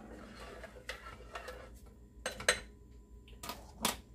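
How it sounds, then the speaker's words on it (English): A pot gets a quick stir on the stove, heard as a few faint metallic clinks and scrapes of a utensil against the pot at irregular intervals in a quiet room. "Give it a quick stir."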